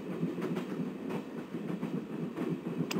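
A train rolling along rails in the Broken Sword point-and-click adventure game, a steady low rumble with faint rhythmic clickety-clack from the wheels, continuous and without talking.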